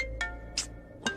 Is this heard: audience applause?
no